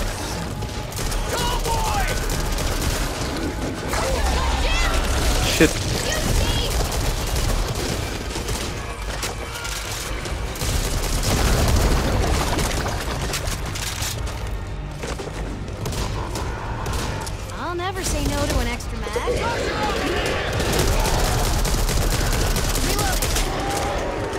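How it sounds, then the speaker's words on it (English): A Gatling gun in the Back 4 Blood video game rattles in continuous dense bursts, loud and sustained amid other gunfire and booms, with no clear pauses throughout. "this is the worst Gatling gun ever"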